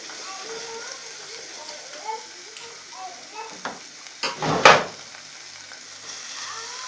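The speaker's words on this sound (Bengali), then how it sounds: "নাড়া দিতেছি" Spices sizzle in a pan (garam masala, bay leaf, ground cumin, turmeric and coriander powder for a mashkalai dal) with a low steady hiss and a few sharp stirring scrapes clustered near the end, one louder burst standing out.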